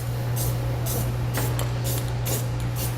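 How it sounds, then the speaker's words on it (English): Clear spray paint hisses into a freshly cut hole in the frame of a 2017 Ford F-350 Super Duty during a fifth-wheel kit install, coming as six close, loud bursts over a steady low hum. "I'm going to come back with a little bit of clear spray paint, and I'm going to spray the inside of the hole we just cut"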